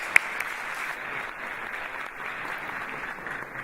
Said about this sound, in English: Please help me welcome Meghan with a huge warm welcome of applause.